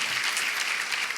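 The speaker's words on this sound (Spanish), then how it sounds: "Le podemos dar un aplauso a ella" Steady applause fills a church congregation, continuous and dense throughout, with no voices rising above it.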